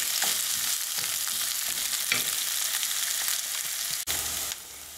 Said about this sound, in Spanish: Voy a freír ahí la cebolla.